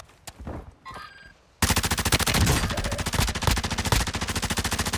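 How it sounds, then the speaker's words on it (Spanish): A few faint sounds, then sudden sustained rapid automatic gunfire in a video game, loud and continuous, a fast rattling burst that keeps going to the end. "Están tiros, están tiros, están tiros, están tiros."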